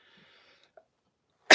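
A man's single sharp sneeze bursts out loud and close at the very end, after near silence broken only by faint murmuring, during an indoor live stream.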